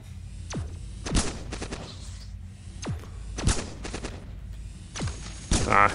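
Cannon fire in the video game Cogmind comes in several separate volleys of sharp, booming shots with a quiet hum between them.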